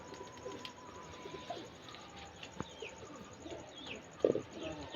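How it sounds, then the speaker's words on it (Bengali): Long-sized Kaldom pigeons coo softly in a loft at dusk, their low repeated calls steady in the background, mixed with occasional chirps and a few brief knocks. "শরীফুল ভাই লফটের ভিডিও, সত্যি কথা বলতে কি সব লং লং সাইজের কালদম"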